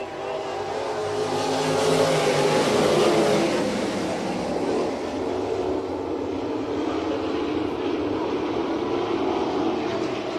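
Winged sprint cars roar away at the green flag on a half-mile oval, a dense, loud, sustained engine drone heard from the stands that swells and then settles.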